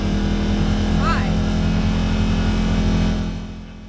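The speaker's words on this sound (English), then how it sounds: "my machine isn't really going over 40, and it feels like it's stuck in low power mode, and Steve is helping me troubleshoot" A side-by-side UTV drives along a trail, its engine a steady loud drone throughout, easing off near the end, with a person talking over the motor.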